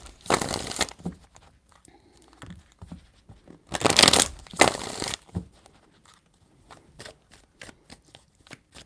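Tarot cards being shuffled in a few quick riffling bursts, close and crisp, separated by softer taps and handling noises.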